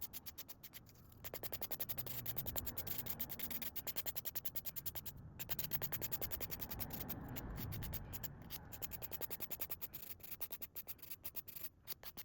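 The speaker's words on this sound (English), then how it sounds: "I'm going to take the coarser side of my file, and what we're going to do is we're just going to file away the bottom of this" A coarse nail file rasps rapidly back and forth across a curved fingernail, a close, quiet, continuous scratching with quick regular strokes and no talk.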